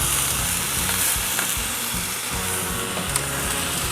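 Cajun chicken sizzles steadily in a hot pan, a continuous close frying crackle with faint stirring scrapes and no voices.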